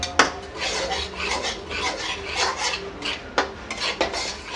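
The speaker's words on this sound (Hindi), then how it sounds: "अब इसे हम चलाते हुए फिर भूनेंगे, जब तक भून ना जाए अच्छे से।" Besan roasting in ghee in a pan is stirred continuously with a utensil, giving a close, steady scraping and rasping with occasional sharp clinks against the pan.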